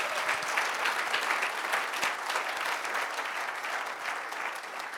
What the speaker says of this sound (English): Please clap for yourselves for that.